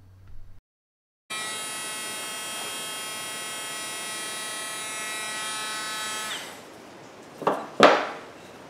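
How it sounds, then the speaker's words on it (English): Router cutting the sound hole of a wooden Native American style flute, with a steady high buzzing whine for about five seconds that winds down, followed by a couple of sharp knocks. "I'm starting the router in the back hole, turning it on."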